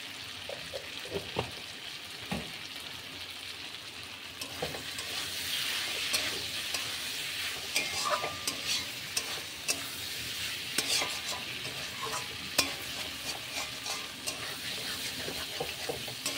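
Patol and poppy seed curry with salt and turmeric sautés in oil, a continuous soft sizzle under scattered spatula clicks and scrapes that run steadily throughout, with no talking.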